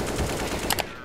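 Gunfire in Counter-Strike: Global Offensive, a run of rapid gunshots in a 1v1 match ending in two sharp, loud bursts near the end, with game ambience behind.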